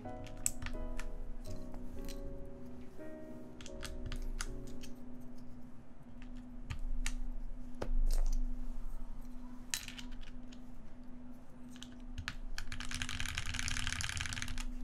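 Mechanical keyboard fitted with GMK Modern Dolch keycaps clacks under irregular typing, scattered sharp key presses over a steady low hum, close and fairly quiet, with a hissy noise rising near the end.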